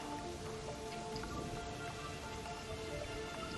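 Steady rain falling in the video game Terraria, a soft, even patter of drops with no voices, faint and constant throughout.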